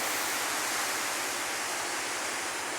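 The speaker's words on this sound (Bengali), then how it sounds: "প্রচুর বৃষ্টি" Heavy rain pours down in a dense, unbroken hiss, loud and constant throughout, with a faint low rumble beneath.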